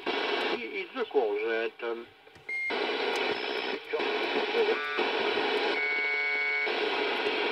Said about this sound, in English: Interesting, it's a packet going on there.